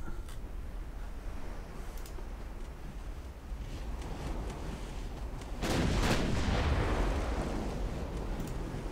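Heavy naval gunfire from battleship guns striking an enemy ship in the naval strategy game Ultimate Admiral Dreadnoughts: a steady low rumble of distant cannon, then a loud, sustained impact blast around the midpoint.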